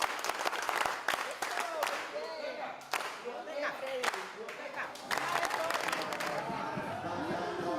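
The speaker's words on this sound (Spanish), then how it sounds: "Muchachos, le vamos a dar un fuerte aplauso" An audience at a pedagogy gathering in Colombia claps loudly and unevenly, with sharp individual claps standing out from the crowd and voices talking over the applause throughout.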